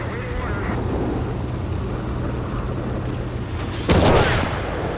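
A T-72B3 tank cannon fires in the Steel Beasts combat game, one loud boom near the end over a steady engine rumble and battlefield noise.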